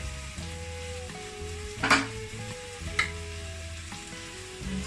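Grated sweet potato sizzles in a frying pan as it is mixed around, with soft scraping strokes and two sharp clinks against the pan, close and without talk over a low hum.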